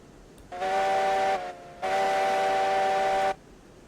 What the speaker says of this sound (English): that whistle's working.